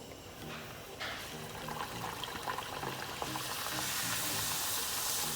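Chirota, a traditional Indian layered pastry, fries in hot oil with a steady crackling sizzle that grows louder and denser after being dropped in, heard close up with no talking.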